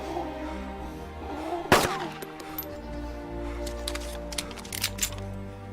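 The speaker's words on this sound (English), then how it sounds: "Oh dear, gunshots." Gunfire in the Arma 2 DayZ mod video game: one sharp loud shot followed by a series of fainter, scattered cracks over a low ambient background.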